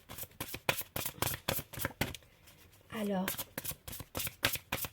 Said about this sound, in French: Et je vais tirer une dernière carte.